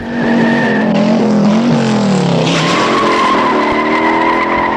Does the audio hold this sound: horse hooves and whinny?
no